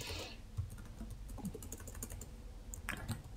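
Quiet, close clicking of keys on a computer keyboard as a command is typed into a terminal, a light irregular patter of keystrokes with a brief louder burst at the start and near the end.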